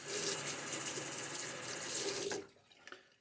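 A tap runs steadily into a shaving setup as water is added to the lather, a loud, continuous splashing flow that cuts off abruptly, leaving a few faint drips and clinks.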